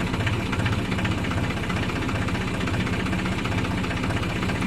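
A tractor engine running steadily on a farm, a loud continuous low throbbing idle with a regular knocking pulse and vibration, unbroken from start to end.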